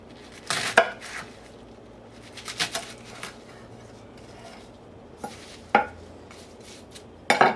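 Cabbage being chopped with a knife on a cutting board, a few sharp, loud whacks spaced irregularly with quieter pauses between, close up and with no one talking.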